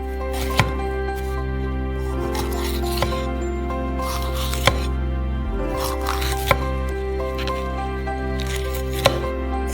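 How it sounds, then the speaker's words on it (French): Knife chopping peeled peppers into thin strips on a cutting board, a sparse series of sharp, separate taps over a steady background hum. "Et on les coupe en petites bandes."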